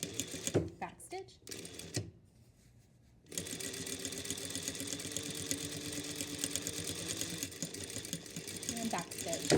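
Sewing machine stitching fabric binding onto a seam edge, a steady near mechanical whir running for several seconds after a short pause, with brief talk at the start.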